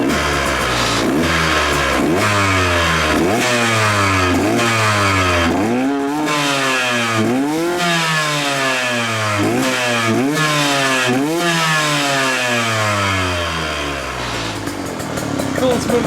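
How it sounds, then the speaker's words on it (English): A Triumph motorcycle engine runs steadily after a coolant refill, idling with repeated revs that rise and fall in pitch, loud and close throughout, with a voice speaking over it. "Bike sounds good."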